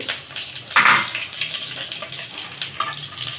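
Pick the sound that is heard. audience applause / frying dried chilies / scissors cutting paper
frying dried chilies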